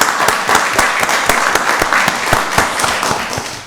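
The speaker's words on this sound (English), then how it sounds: "give Jayla a round of applause" Applause at a county board of commissioners meeting, a loud, dense crowd clapping steadily throughout with sharp individual claps standing out, no talk over it.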